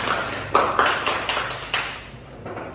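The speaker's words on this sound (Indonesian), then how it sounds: "tepuk tangan untuk Roji yang sudah bertanya" Classroom students give a short burst of applause for a classmate, a handful of sharp claps in quick bursts that thin out and fade within a couple of seconds.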